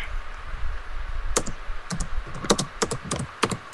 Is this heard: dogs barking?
no